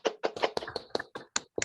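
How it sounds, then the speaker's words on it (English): Scattered hand claps from a few people on an unmuted video call after a PhD defense, quick uneven taps, thin and fairly faint over about two seconds. "Let's everybody clap and unmute yourself too"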